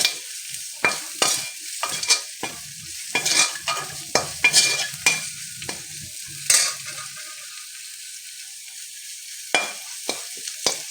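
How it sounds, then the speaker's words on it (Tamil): Spice powder dry roasting in a pan, stirred without pause: a steady run of close scraping and rustling strokes, irregular but continuous, with a quieter stretch midway before the stirring picks up again. "இந்த மாதிரி கைவிடாமல் வறுத்திட்டே இருக்கணும்"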